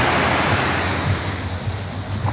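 Ocean waves wash onto the beach in Veracruz, a steady loud roar of surf with wind buffeting the microphone and no voices.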